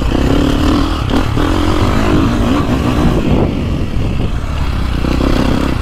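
A 2024 Beta 450RX or 2024.5 KTM 450 Factory Edition motocross bike runs close and steady throughout, with a dense engine drone and chassis clatter and no clear revving peaks or talking.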